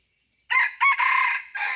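A white-eared rooster crows loudly and close by, one long, strained cock-a-doodle-doo broken into several segments after a moment of silence.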